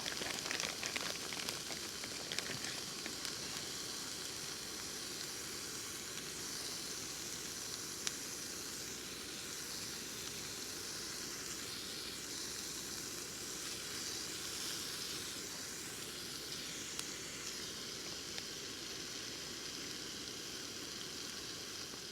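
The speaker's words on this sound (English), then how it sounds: "Gotta love the sound of that sizzle." Steady, dense sizzling of bacon frying in a pan at a campsite, a continuous crackling hiss with small pops, close and even throughout.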